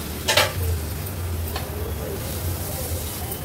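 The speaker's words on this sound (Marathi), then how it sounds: "टोमॅटो पण व्यवस्थित मी परतून घेते मसाल्यामध्ये" Chopped tomato sautés in masala in a pan, a steady close sizzle and hiss broken by a few sharp spoon scrapes and stirring knocks, with no talk.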